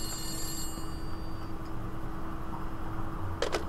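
An office telephone ringing in the horror game The Beast Inside, a faint thin ring in the background over a steady hum, ending with a brief brighter burst near the end, no voices.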